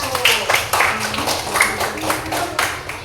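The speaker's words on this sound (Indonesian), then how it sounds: "Beri tepuk tangan dulu untuk kelompok 1" Schoolchildren in a classroom clap for a group, a dense burst of close, scattered handclaps that keeps going and fades slightly, with voices mixed in.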